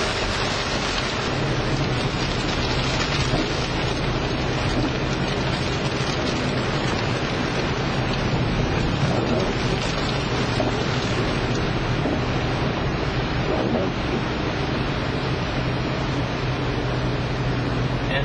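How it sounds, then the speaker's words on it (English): Steady dense rain roars against a moving vehicle, a constant hissing wash with low road rumble underneath and no voices. "And this, my friends, is territorial rain."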